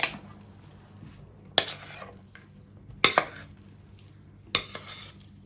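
A spoon stirs yeast into cooled mashed potatoes for soft potato bread, giving three or four sharp, separate scrapes and clinks close by, with quiet pauses between them.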